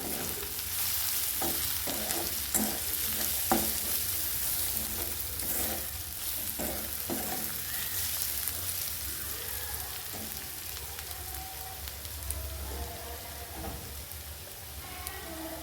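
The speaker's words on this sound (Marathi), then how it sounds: "अर्धा चमचा धणा पावडर टाकून घ्यायची आणि हे छान आपल्याला एकदा परत एकदा हलवून घ्यायचे बघा" A potato bhaji with coriander powder and spices is stirred in a frying pan, with a steady sizzle under repeated scraping strokes of a spoon, close and fairly loud.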